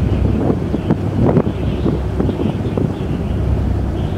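A luxury cruise boat moves through Halong Bay under a steady rush of wind buffeting the microphone, with a low engine rumble and faint water noise beneath.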